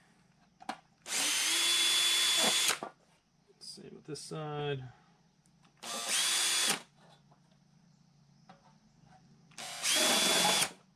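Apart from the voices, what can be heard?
power drill drilling holes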